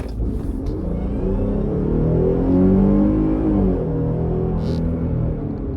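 Dodge Durango V6 SUV accelerating hard, its engine droning loud and steady with a rising, slightly strained tone over road rumble, heard alone without talk.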